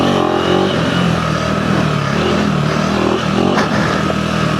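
Off-road motorcycle, a Honda CRF300L or KTM 390 Enduro R, riding over big dips on a technical trail: a loud, steady engine drone with revving surges and some clatter, close up throughout.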